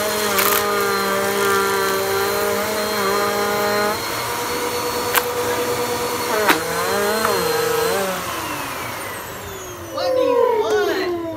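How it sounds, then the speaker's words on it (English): A hybrid vacuum cleaner built from a Bissell cleaning head and Shark suction unit runs steadily with a loud whining motor hum, shifting pitch as it works, while a person talks over it. "I get to use the powerful head from the Bissell and the powerful suction from the Shark."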